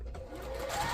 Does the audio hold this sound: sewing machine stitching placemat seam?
yes